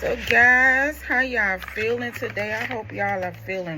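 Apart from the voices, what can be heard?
No everyday noises stand out.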